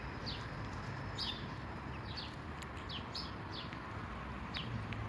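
A newborn baby bird gives a run of thin, high chirps in quick bursts, faint against a steady outdoor hiss with no voices.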